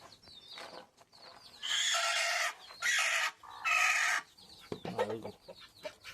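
Hens clucking in a backyard coop at egg-laying time, with several loud, sustained squawking bursts in the middle and softer clucks and calls before and after, close by.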